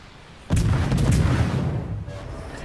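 A torpedo striking a ship in the naval battle game World of Warships, one heavy booming explosion with a rumbling tail that slowly fades, heard alone without talk.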